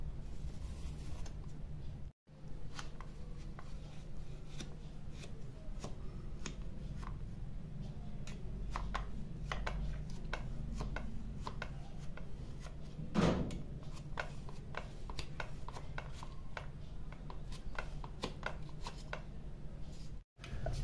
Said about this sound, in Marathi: ह्या कलथ्यानेच मी वड्या कापून घेते.